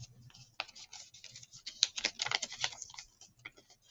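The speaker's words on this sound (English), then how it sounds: "So now we take our scissor, and we're going to cut around like so." Scissors snipping around folded paper to cut out a flower petal layer, a quick run of close, crisp clicks and rustles in an uneven rhythm with no talking.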